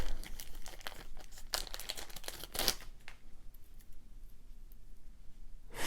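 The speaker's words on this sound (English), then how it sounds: "I just kind of cut without cutting my wire, because it seems to be the easiest way to get it unwrapped" Scissors cut through the taped plastic wrapping on a coil of bead stringing wire, making close crinkling, crackling and snipping sounds in bursts that fade into quiet handling noise.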